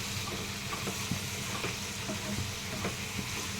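Capsicum frying with salt, chili and spices in a pan, a steady close sizzle with occasional light stirring clicks, no voices.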